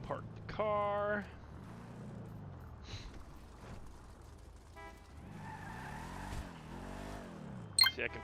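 A car is parked in a video game, with engine revving and tire skids under game music, and someone talks in the background.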